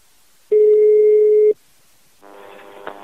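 A telephone ring-back tone sounds over a line during a prank phone call: a single steady electronic tone lasting about a second, then quiet, followed by faint crackling line noise.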